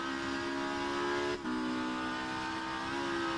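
A 1990s BTCC turbo Ford Sierra touring car engine in a racing sim at Donington drones at high revs, sustained and fairly distant, with a brief dip as it shifts gear before roaring on.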